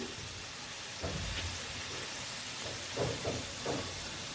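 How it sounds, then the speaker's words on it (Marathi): Karanji pastries deep-frying in well-heated oil, a dense continuous hiss and bubbling crackle with a few louder surges as they puff and turn, close and steady without speech. "तेल छान प्रकारे तापलेलं आहे त्यामुळे जास्त वेळ लागणार नाही"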